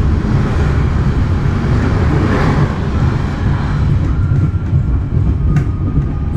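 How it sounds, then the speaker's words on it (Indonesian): The Erlangga passenger train rushes past close by at Karawang station, a loud, continuous low rumble and rattle of wheels that lasts the whole time, with no voices. "Yang barusan lewat itu tadi kereta api Erlangga ya"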